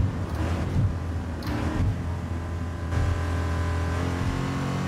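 Ford GT sports car in Gran Turismo Sport VR, its naturally aspirated engine revving steadily with a loud, close intake roar that swells in pitch and stays continuous throughout, with no talking.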